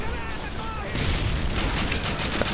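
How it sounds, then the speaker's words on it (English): Explosions and gunfire rumble loud and close in Modern Warfare 2 during the Hornet's Nest mission, a dense mix of combat noise with a broad grenade-like blast partway through. "Just throw a grenade"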